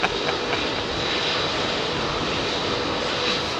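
Jet airliner departing runway 27R at London Heathrow Airport, heard up close as a loud, steady roar of engines that holds throughout with a faint rising whine, no voices.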